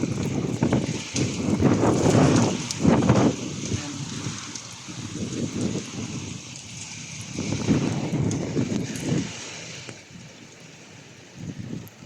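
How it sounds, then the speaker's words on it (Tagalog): Strong wind buffets the microphone during a nighttime thunderstorm with heavy rain, gusting in loud surges that ease and return over a steady rushing roar. "Napakalakas ng ulan dito at kidlat."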